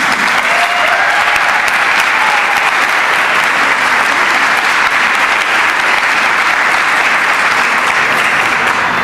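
Sustained applause from a seated audience at a university nursing pinning ceremony, steady and loud throughout as a speaker is welcomed to the podium, with no pauses or talk over it.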